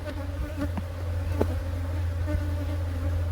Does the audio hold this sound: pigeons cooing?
no